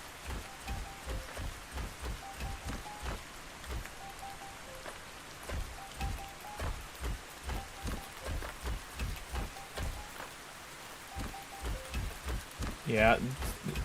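Steady rain falling in the Ark Survival Ascended video game, a dense patter with repeated soft low thumps running throughout, plus a brief louder burst near the end.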